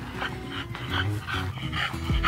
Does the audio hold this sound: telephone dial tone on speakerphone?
no